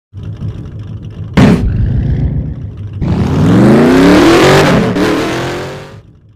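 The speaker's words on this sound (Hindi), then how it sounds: "तो चलिए गाड़ी स्टार्ट करते हैं।" A car's engine cranks and catches with a sharp burst, idles briefly, then revs up loudly and steadily before easing off, heard close with no talking.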